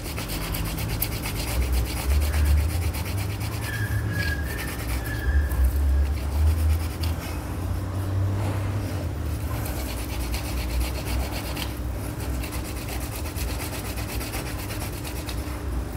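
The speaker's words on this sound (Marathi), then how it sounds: "आता आपण ते किसून घेऊया।" Peeled potatoes are grated by hand, a steady scraping rasp repeating in quick continuous strokes, close and fairly loud with no talking.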